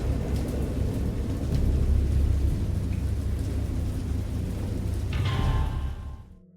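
Thunderstorm in the game Dagon: steady heavy rain with a deep, continuous rumble of thunder swelling in the middle, a brighter crackling burst near the end, then fading abruptly to quiet.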